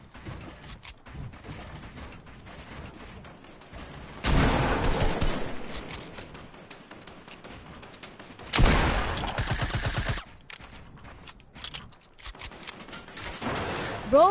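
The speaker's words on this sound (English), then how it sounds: "You're shooting at me only!" Loud bursts of automatic gunfire in a video game erupt in several sustained volleys, separated by quieter stretches of scattered shots, with someone shouting over the shooting.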